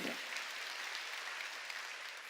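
A church congregation bursts into applause during a sermon, steady dense clapping filling the room at moderate distance, continuing throughout with no speech over it.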